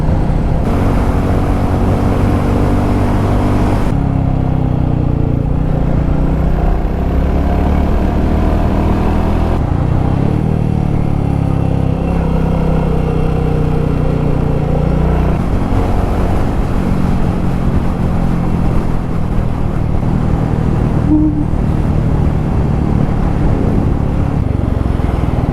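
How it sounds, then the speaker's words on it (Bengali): Motorcycle ridden on a mountain road between Pelling and Darjeeling, a continuous close engine drone under heavy wind buffeting, its pitch shifting as the rider changes speed. "বাইক চালাচ্ছি আর খুব এনজয় করছি"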